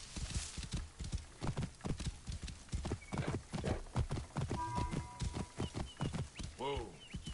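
A horse in the Assassin's Creed Origins video game, a steady run of clip-clopping hooves with a loud neigh near the end, close, with a voice talking over it in places.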